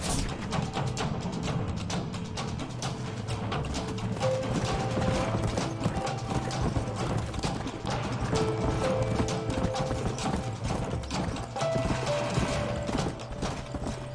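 Horses' hooves clip-clopping at a steady rhythm in the Western video game Red Dead Redemption, loud and continuous with some mechanical clatter mixed in.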